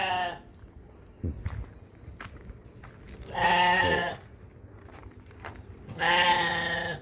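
Goats and sheep bleat in a farm pen. Two long, loud, wavering bleats sound close by, separated by rustling and a low thud from the animals moving around.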